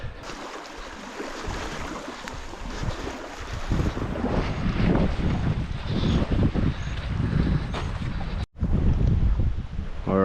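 Strong gusty wind roars across an exposed microphone at a creek mouth on a fishing trip in crocodile country, with broadband buffeting that swells and stays loud throughout, briefly cutting out near the end.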